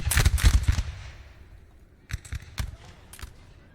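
Musket volleys from infantry units in Napoleon: Total War, a dense burst of overlapping shots up front, then scattered separate cracks of return fire, loud and mid-distance, with no talk.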